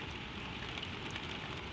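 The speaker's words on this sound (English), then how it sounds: "The rain runs soft down the glass." Soft, steady rain patters against a train compartment window, a dense, even hiss with faint tapping droplets, close and gentle with no voices.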